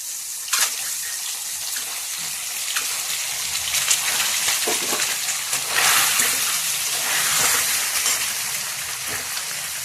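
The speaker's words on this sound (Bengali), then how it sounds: "কড়াই গরম হয়ে গেছে, তেল দিয়ে দিচ্ছি ভাজার জন্য। ডিমগুলো দিয়ে দিচ্ছি।" Loud, continuous bright sizzling of eggs frying in hot oil in a kadai, spitting and crackling steadily with occasional surges, no talking.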